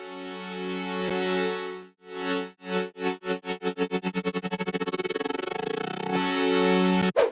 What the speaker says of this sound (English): And then this transition LFO chord.